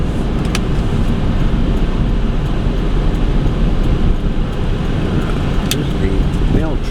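A truck passes on a nearby road, making a steady, loud, broadband traffic rumble that fills the whole stretch without a clear rise or fade.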